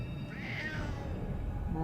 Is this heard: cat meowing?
yes